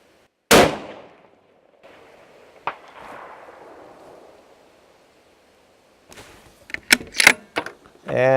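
A long-range rifle fires at a small target about 550 yards away: one loud, sharp crack with a trailing echo, then quiet, later light handling clicks and clatter close by.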